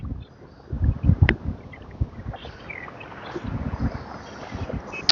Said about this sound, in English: And I have a lot more wind. Are you hearing any wind?